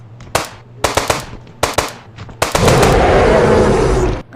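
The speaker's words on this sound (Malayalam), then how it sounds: "നമ്മളെ കിങ് കോങ്ങിനെ വെടിവെക്കാൻ നേരം കണ്ടില്ലേ," Gunfire aimed at King Kong in a mobile shooting game: several short, loud automatic bursts separated by brief gaps, then one long sustained burst of rapid fire.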